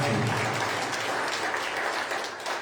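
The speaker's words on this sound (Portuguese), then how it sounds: "Dê um aplauso a Jesus" A church congregation applauds steadily and loudly throughout, a dense wash of many hands clapping with a low rumble of room noise underneath and no clear voices.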